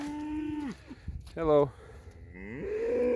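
Cattle mooing on a wet spring farm: several long, low moos, including one loud, close call and another rising one, with a person briefly greeting an animal.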